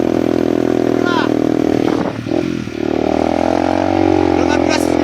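A motorcycle engine drones loudly and steadily, dips briefly, then climbs again as the throttle opens, with someone talking over the engine noise throughout.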